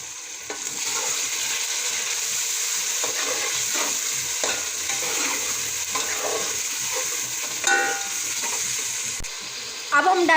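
Boiled chicken cubes sizzle and fry steadily in a pan while being stirred for chicken fried rice, with scraping strokes of the spatula rising over a constant hiss.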